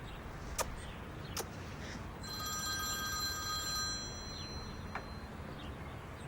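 A telephone rings in a quiet room in a dubbed Turkish drama, one bright trilling burst of electronic ringing in the middle, with faint clicks and taps before and after.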